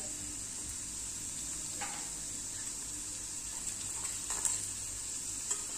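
Washed prawns sautéing in a pan with turmeric for prawn pickle: a continuous bright sizzle with faint scraping from stirring now and then, close by, with no talking.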